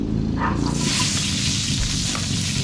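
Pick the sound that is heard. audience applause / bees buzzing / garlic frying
garlic frying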